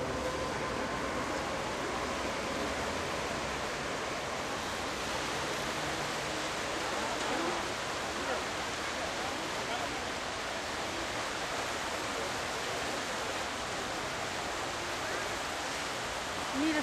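A river swollen by rain and snowmelt rushes past steadily, a loud broad wash of flowing water filling the whole stretch without a break.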